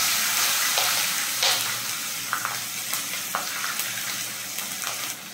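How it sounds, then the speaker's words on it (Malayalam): Chopped green chillies, ginger and garlic fry in hot oil in a pan, giving a bright, continuous sizzle broken by repeated close scraping stirs of a spatula. "ഇത് പച്ചമുളക് മാറുന്നത് വരെ നന്നായിട്ടൊന്ന് വഴക്കി എടുക്കാം."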